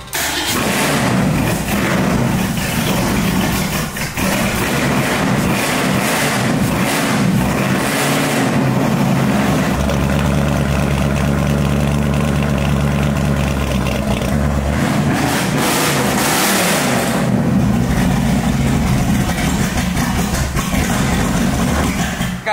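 The supercharged V8 engine of a 1965 Ford Mustang idles with a deep, steady rumble that rises and surges now and then, loud and close, running without letup.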